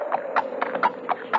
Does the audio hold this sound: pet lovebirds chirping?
no